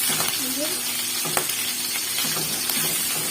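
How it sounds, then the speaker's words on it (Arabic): Three garlic cloves browning in oil in a pan for Dawood Basha kofta sauce, a close, bright, continuous sizzle broken by a few stirring clinks and scrapes. "هنبدا ننزل بس ب3 فصوص من الثوم بالشكل ده. هنديها لون بس"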